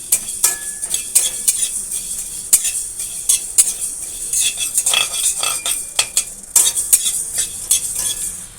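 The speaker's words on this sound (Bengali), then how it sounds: "আমি ততক্ষণে এই মশলাটাকে ভালো করে ভেজে নিই।" A spoon scrapes and clinks in a pan as spice paste for soybean muithya is stirred and fried, with sharp irregular metallic taps over a soft sizzle and no talk.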